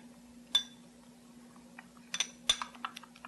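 Herbs being mixed in a bowl for a bun topping, a few sharp light clinks of a utensil against the bowl with soft scraping between, quiet and close.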